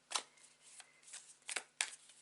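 A deck of tarot cards is shuffled close by, giving five or six quick riffling bursts spaced irregularly, crisp and soft in a quiet room with no talk.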